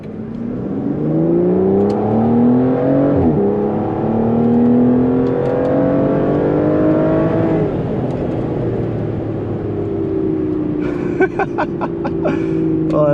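A Porsche 911 engine revs up and down through paddle-shift downshifts, rising and falling harmonic engine tones with a sharp blip near the middle, loud and close, with a brief burst of clicking clatter toward the end.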